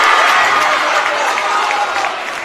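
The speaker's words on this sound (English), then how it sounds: "Crowd getting into the game now." A basketball crowd at a high school game between Profile and Littleton cheers loudly and continuously, a dense roar of voices that slowly eases toward the end.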